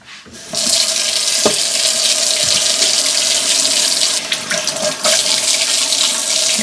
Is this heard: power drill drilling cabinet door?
no